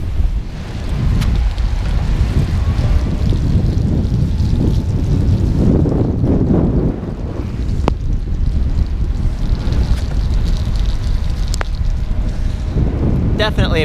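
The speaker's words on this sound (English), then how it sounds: "The wind's kind of blowing the tiles and stuff." Steady wind roars across the microphone outdoors while riding a Gazelle Arroyo C8 HMB Elite e-bike, a loud continuous rushing buffet with a few faint clicks.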